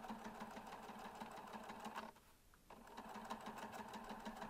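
A sewing machine topstitches along the edge of a small fabric bag beside a thick strap. It runs in a steady fast rhythmic whir, pauses briefly, then resumes at the same even pace, close and clear.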